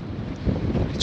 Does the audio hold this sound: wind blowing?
yes